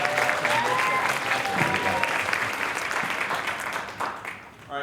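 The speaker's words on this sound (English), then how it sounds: "round of applause for her" A convention panel audience at MomoCon 2013 bursts into loud, dense applause with a few cheers, sustained close and full before tapering off at the end.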